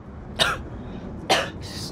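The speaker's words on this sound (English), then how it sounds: "Excuse me for my coughing." Two sharp coughs about a second apart, close to the microphone, with a quieter breathy sound trailing at the end over a low background hum.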